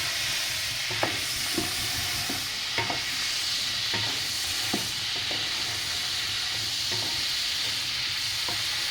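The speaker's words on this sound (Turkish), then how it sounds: "Kırmızı biberlerimi kızarttım. Yeşil biberlerime geçtim." Steady crackling sizzle of green peppers frying in a pan on a wood stove, with occasional utensil clicks and scrapes over the constant hiss.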